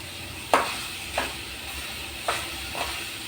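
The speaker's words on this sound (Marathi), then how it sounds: "गॅस कमी करून ते छानसं मिक्स करायचं आहे खाली लागता कामा नये" Grated raw mango and sugar stirred in a pan over low-medium heat, a soft steady sizzle broken by a few brief scraping strokes of the spoon, close and fairly quiet.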